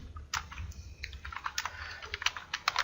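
Computer keyboard keys clatter in quick, uneven bursts while comment text is typed into PHP code, close and moderately loud with no voices.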